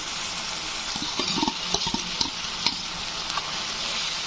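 Onion and tomato sauté in hot oil in a pan for pav bhaji, a continuous close sizzle broken by irregular spatula scrapes and clicks against the pan, with no voices.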